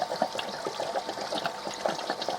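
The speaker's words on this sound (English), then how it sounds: "Water running back." Water running back into a koi pond after a UV light repair, a steady splashing trickle with small irregular bursts, moderately close and alone.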